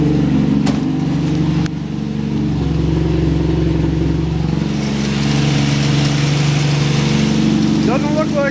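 A straight-six engine idles steadily just after start-up, a loud, continuous low rumble throughout with a voice briefly audible over it.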